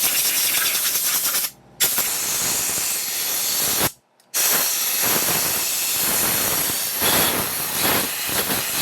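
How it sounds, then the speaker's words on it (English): Compressed air blasting to clean a hydraulic cylinder from a logging excavator, a loud close hiss that runs steadily, cuts off twice for short gaps, then resumes. "the little careful use of compressed air, I really think it's going to give cleanliness we need."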